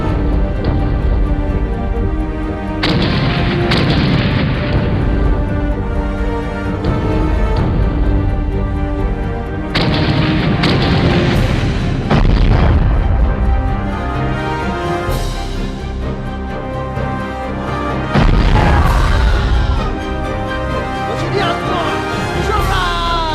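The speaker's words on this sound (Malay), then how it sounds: "Pasukan meriam! Bersedia untuk menembak! Tembak!" Cannon fire in an animated battle, gunners shooting at fighters defending their village: several heavy booming blasts break out at intervals over dramatic music and shouting voices.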